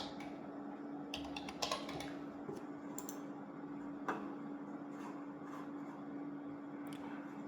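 Quiet typing on a computer keyboard, close by, with irregular soft key clicks and a few brief flurries over a low steady hum.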